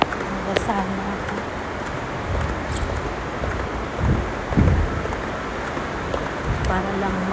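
Steady, strong typhoon wind roars and buffets the microphone in a continuous rushing wash, with a few louder gusts breaking through.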